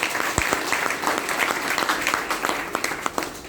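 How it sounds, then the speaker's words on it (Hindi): An audience at a business-plan seminar claps enthusiastically, a dense burst of applause with sharp individual claps popping through, loud and close, fading slightly toward the end. "शानदार ताली हो जाए।"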